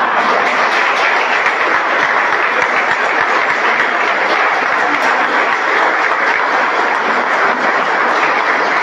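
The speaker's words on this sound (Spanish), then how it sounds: "Un aplauso para ellos" A church congregation applauds at a patron-saint novena service, a dense, steady wash of many hands clapping loudly and continuously throughout, with no voices standing out.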